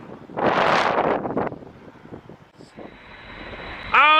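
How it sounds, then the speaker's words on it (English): Airplane landing in a storm with strong wind: a roaring gust of wind and engine noise buffets the microphone early on, then eases to a rumble before a high whine and another loud rush at the end. "An unforgettable memory with the crew when landing in a storm."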